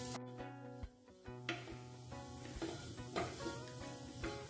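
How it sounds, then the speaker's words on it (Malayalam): Masala for a fried mackerel curry sizzles gently in a pan on a low flame, a faint, steady frying hiss with a few soft stirring scrapes and no talking. "മസാലയൊക്കെ ഇതിൽ കിടന്ന് നല്ലപോലെ ഒന്ന് ഫ്രൈ ആവണം"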